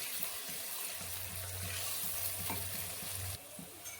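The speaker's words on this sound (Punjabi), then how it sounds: "ਹੁਣ ਇਹਨੂੰ ਬਰਾਊਨ ਹੋਣ ਤੱਕ ਭੁੰਨਣਾ" Onion, garlic, ginger and green chillies roast in a pan toward browning, giving a continuous close sizzle with light stirring taps. The sound drops noticeably quieter near the end.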